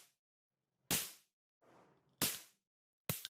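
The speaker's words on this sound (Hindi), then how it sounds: "10 रुपए की गन और उसमें डाली 1 रुपए की गन रोल की आवाज" Ten-rupee toy cap gun loaded with a one-rupee cap roll firing three sharp, loud cracks spaced more than a second apart, with a softer rustling noise between the second and third shots.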